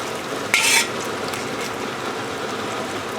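Prawns stir-fry for Char Kway Teow in a hot pan, with a steady sizzle beneath one brief metallic scrape of a utensil near the start; close and fairly loud, with no talk.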